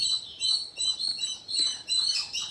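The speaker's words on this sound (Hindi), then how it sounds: "बाहर कुछ पंछी है, बात कर रहे एक दूसरे से," Several birds chirp outside in quick, high-pitched bursts, repeating every half second or so at a moderate distance and volume, with no one talking.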